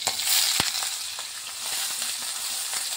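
Potatoes frying in a little oil with green chillies in a wok, a close, continuous crackling sizzle broken by quick stirring scrapes.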